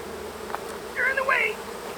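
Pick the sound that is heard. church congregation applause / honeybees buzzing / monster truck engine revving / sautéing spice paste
honeybees buzzing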